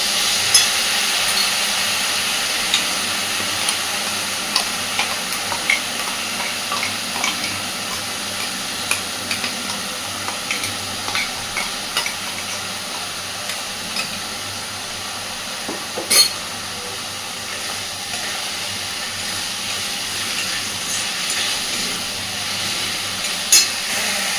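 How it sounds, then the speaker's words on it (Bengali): Spice paste and potatoes fry steadily in a pan for wedding-style fish kalia, a loud continuous sizzle with scattered stirring clicks throughout and no speech. "মশলাটা দিয়ে সুন্দর করে আলুর সাথে একটু সময় নিয়ে মশলাটাকে কষাতে থাকবে"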